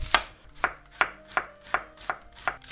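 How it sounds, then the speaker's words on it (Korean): A knife slices an onion thinly on a cutting board, seven crisp, evenly spaced chops landing about every third of a second, close and clear with no voices. "오늘 양파 하나 있습니다. 양파요. 그냥 얇게 채 썰어 주세요."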